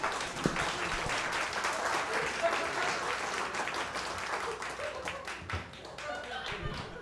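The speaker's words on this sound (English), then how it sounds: "Round of applause, Mark Chalafou" Comedy club crowd at Go Bananas claps for a comedian being brought to the stage, a steady wash of hand claps with a few sharper taps, some voices mixed in throughout.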